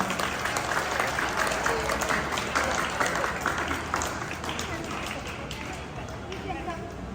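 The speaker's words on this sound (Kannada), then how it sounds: "ದಯಮಾಡಿ ಅವರನ್ನು ಜೋರಾದ ಚಪ್ಪಾಳೆಯ ಮೂಲಕ ಸ್ವಾಗತಿಸೋಣ." Audience applause at a Chiguru Habba 2026 event welcoming a speaker to the stage: steady, dense clapping from a sizable crowd, sustained throughout and slowly fading toward the end, with a faint murmur of voices underneath.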